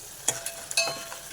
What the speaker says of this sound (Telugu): ఆవాలు పల్లీలు వేగిపోయినాయి